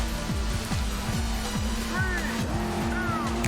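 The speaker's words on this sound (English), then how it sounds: "Let's rev the engine." Car engine revving in a car tuning simulator video game, a steady droning engine tone with repeated quick rev sweeps rising and falling, loud and continuous throughout.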